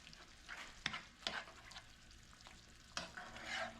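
Chili ingredients cooking down in a pot on a budget stovetop batch give a soft sizzle and bubbling, with a few sharp stirring knocks of a spoon against the pot, fairly quiet and close, with no voices.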